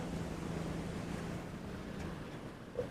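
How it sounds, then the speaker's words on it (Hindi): Water rushes steadily along a canal through a rural area near Mona Depot, Mandi Bahauddin, a continuous broadband roar with no talk over it. "ये देखें, ठाठे मारता हुआ जैसे पानी उछल रहा है"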